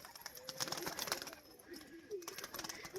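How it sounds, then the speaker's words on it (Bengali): A female yellow-eyed pigeon coos softly in a few low, rolling calls, faint and close among light rustling. "এটা মাদি পায়রাটা"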